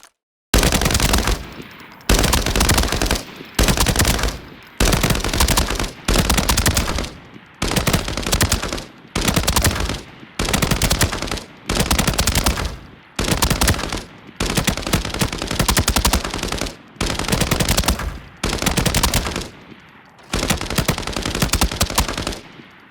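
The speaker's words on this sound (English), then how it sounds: "We're now gonna try killing tier 6 dummies with full auto bursts with tier 5 ammo in both guns" Full-auto bursts from T951 and T03 5.8×42 rifles firing tier 5 ammo at dummies in Arena Breakout Infinite: about a dozen loud, rapid bursts of a second or so each, separated by short pauses, with no talk.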